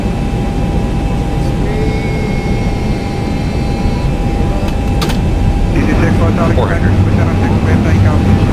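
Simulated Boeing 737-800 jet engines roar steadily at a loud, constant level as the airliner takes off in X-Plane 11, with a slight swell in the final seconds and radio chatter over the top.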